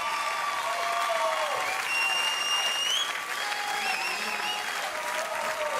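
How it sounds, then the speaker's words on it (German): A crowd at a live Eurovision 2018 Swiss selection show applauds steadily and loudly throughout, and cheers and whoops rise over the clapping. "Ein Applaus!"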